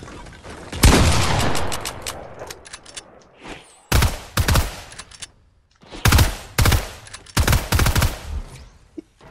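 Burst rifle gunfire in Fortnite, loud clustered bursts of rapid shots separated by short pauses, several rounds repeating through the stretch.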